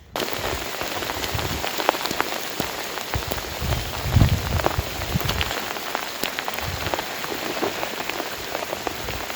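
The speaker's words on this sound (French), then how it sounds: "Il s'est remis à pleuvoir vraiment très fort" Heavy rain pours steadily on surfaces outdoors in Campania near Naples, a dense continuous hiss with occasional louder drips and a faint low rumble of distant thunder.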